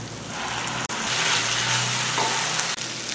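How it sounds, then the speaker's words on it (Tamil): Ginger garlic paste sautés in a pan as a dense, loud, continuous hiss of frying, with two very short breaks in the sound. "இஞ்சி பூண்டு பேஸ்ட் நல்லா வதக்கிடுச்சு"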